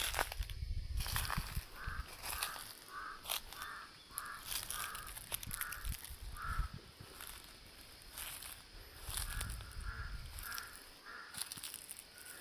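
Outdoors on a mountain with guava trees, crows give a string of repeated caws, with other birds calling faintly amid rustling and a low background hum.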